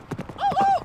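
Horses clip-clop along on a prayer horse ride through indigenous communities in wet northern Nevada, with a few close, quick hoof strikes followed by a short, high, thin tonal squeal.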